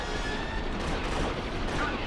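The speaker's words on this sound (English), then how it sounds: "Gunshot!" Gunfire in the video game Star Wars Battlefront II during a cell block riot, heard as a dense, continuous barrage of blasts and booms, loud and close throughout.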